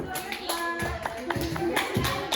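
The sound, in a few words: applause for the student teacher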